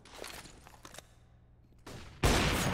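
Gunfire in Counter-Strike on the Mirage map during a competitive match, a few faint shots and footsteps followed by a sudden loud burst of shooting at the end.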